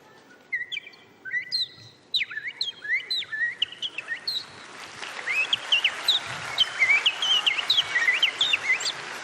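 A man imitates morning birdsong, whistling a run of quick chirps and warbling trills that grow busier and more continuous toward the end, clear and alone in a quiet studio.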